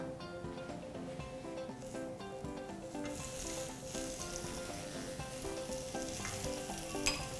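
Vegetarian barbecue skewers sizzle steadily in a hot pan with sesame oil, a loud close crackling hiss that stays dense and continuous throughout.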